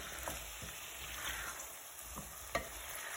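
A meatball and pea tagine is stirred in its pot, with soft scraping strokes over a steady sizzle and a sharper clink of the utensil near the end.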